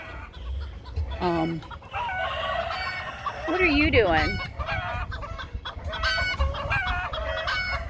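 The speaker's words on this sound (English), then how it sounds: "Let the rooster hang out." A rooster clucks and calls at close range in a farmyard with a hawk about, short bursts of clucking cut by a longer crowing phrase, while someone speaks to the bird over them.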